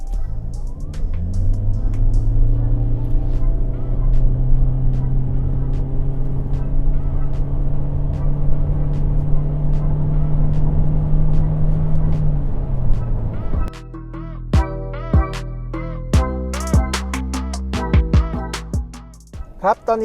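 A hybrid Toyota Corolla Altis engine drones steadily, pitch holding as it pulls hard from 0 to 100 km/h for about thirteen seconds, then cuts to clicks, knocks and cabin rattles.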